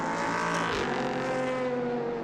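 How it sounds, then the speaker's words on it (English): A race car at the 2019 4 Hours of Barcelona endurance race passes loudly and close on the circuit, its engine note sweeping in pitch as it goes by, with no talk over it. "And that is the cool racing car of Antonin Borja"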